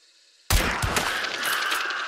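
A single headshot gunshot in Hunt: Showdown, a sharp loud blast after near silence followed by a long rumbling echo and tail that fades slowly, alone without talk.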